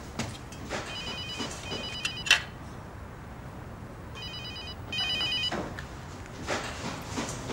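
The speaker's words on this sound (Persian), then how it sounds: "انگار صدای تلفن میاد" A telephone rings in two bursts of rapid trilling electronic tones, separated by a pause, heard in a room with background noise and small knocks.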